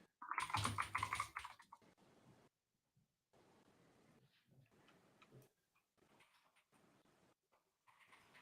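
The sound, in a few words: typing on a computer keyboard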